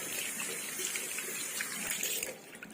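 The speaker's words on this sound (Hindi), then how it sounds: "अब जैसे जब इसके सामने करोगे तभी नल चालू होगा" Water running steadily from an automatic infrared-sensor tap into a wash basin, a continuous splashing hiss that carries on evenly and eases slightly near the end, with no voices.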